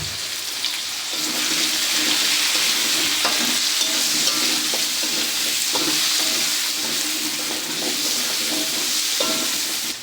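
Potatoes frying in oil with turmeric powder in a village kitchen pan: a constant close sizzle with scattered pops and crackles and occasional stirring scrapes, no voices.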